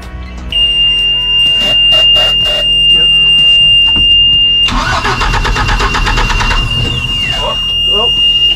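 A Mercruiser 4.3 boat engine that sat unused for 18 years cranks and catches, while a steady electronic alarm beeps throughout, loud and close; the engine's rough, rising roar takes over partway through.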